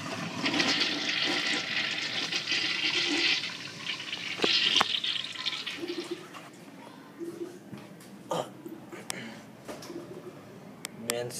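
A Gerber Viper toilet flushing in a restroom, a loud rushing swirl of water for several seconds that tapers into quieter refill trickling and scattered clanks.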